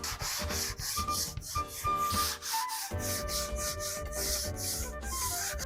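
A cracked dashpad on a 1972 Dodge D200 is scuffed by hand in steady back-and-forth rubbing strokes, continuous and close, with music playing underneath.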